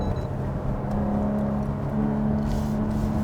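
A supercharged rear-wheel-drive Jaguar F-Type P380 accelerates in third gear, its engine droning steadily at a near-constant pitch that rises slightly late on, heard from inside the cabin.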